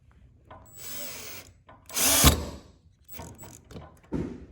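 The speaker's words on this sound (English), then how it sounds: "I'm gonna go ahead and start screwing in the middle support insert" A power drill drives screws into the middle support insert of a Bahama shutter awning, in several short whirring bursts with one louder loaded spin and pauses between them, close by.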